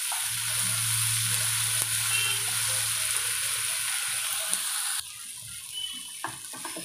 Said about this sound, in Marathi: तर हे सगळं वाटण आपण आधी व्यवस्थित भाजून घेऊया.